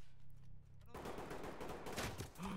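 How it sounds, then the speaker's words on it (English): Sustained video game gunfire erupts abruptly after a quiet opening second, a dense, loud burst of automatic shots filling the rest of the moment, with a voice briefly audible underneath. "That's not me shooting at you."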